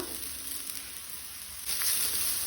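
Grated coconut roasting in a pan gives a steady, dry sizzle and hiss with no voices, growing slightly louder and brighter near the end.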